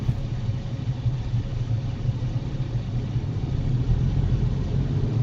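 A black car driving through a roundabout in the left lane on a driving-exam practice route, heard as a steady low engine rumble and road noise from inside the vehicle, with no talking.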